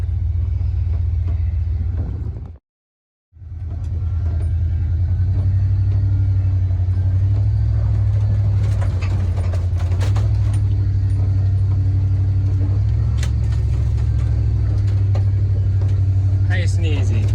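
A Dodge Ram crawler truck on air-down 37-inch tires with beadlock wheels creeps over off-road obstacles at Fort Benning, its steady, loud engine rumble continuous apart from a brief cut near the start.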